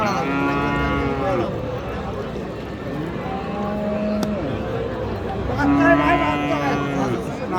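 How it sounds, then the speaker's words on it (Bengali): A cow lets out long, drawn moos, one at the start and another near the end, over a steady murmur of chatter at Raniganj cattle market, among Friesian and crossbred bulls and calves. "বাছুর গরু কিনুন বড় গরু কিনুন"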